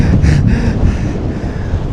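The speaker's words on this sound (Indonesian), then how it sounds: "Di sini cuacanya lagi berangin banget." Strong gusts roar over the microphone on the windy summit of Mount Slamet, a loud, continuous low rumble with buffeting bursts, heard alone.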